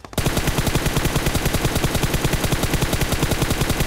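Gunfire in a mobile shooter game plays as loud, close, evenly paced automatic fire that runs unbroken for several seconds.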